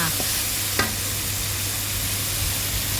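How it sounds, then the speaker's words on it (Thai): Minced pork sizzles steadily as it is stir-fried in a hot pan with garlic and yellow chili, a loud continuous frying hiss with a couple of faint spatula taps near the start. "เราก็จะเอา หมูสับใส่ลงไปค่ะ ผัดหมูสับให้สุกค่ะ"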